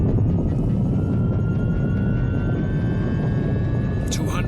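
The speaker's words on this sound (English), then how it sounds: "Then prepare for liftoff." Spacecraft liftoff effect in a science-fiction radio drama: a loud, steady rumbling roar with rising engine whine builds continuously throughout, with a brief burst near the end.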